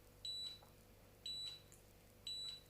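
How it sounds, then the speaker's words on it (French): A Gifi cordless hair curler's timer gives three evenly spaced high-pitched beeps about a second apart, close and clear over a quiet room. "Donc ça bip le nombre de temps que vous avez choisi."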